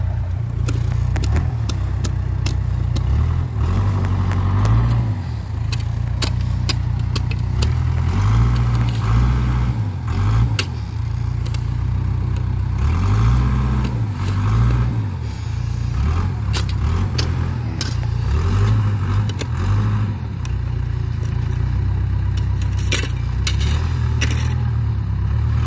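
A backhoe engine runs loud and close at a worksite where logs are being placed, with a continuous low rumble that rises and falls as the machine works and moves, along with occasional scraping and clattering.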